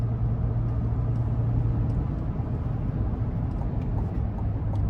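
Low, steady engine drone of a 2021 Chevrolet Tahoe RST with the 5.3-liter V8 pulling out of corners, heard from inside the cabin with a constant hum and road rumble, no voices.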